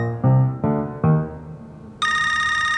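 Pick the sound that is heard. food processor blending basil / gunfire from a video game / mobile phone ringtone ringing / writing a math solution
mobile phone ringtone ringing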